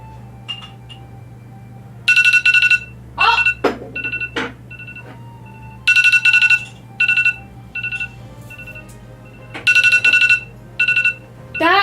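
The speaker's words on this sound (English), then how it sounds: "That would actually be my laundry timer" A home laundry timer alarm rings in short, loud electronic bursts, repeating in clusters with brief quiet gaps between them over a low room hum.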